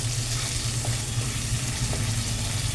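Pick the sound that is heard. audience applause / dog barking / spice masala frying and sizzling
spice masala frying and sizzling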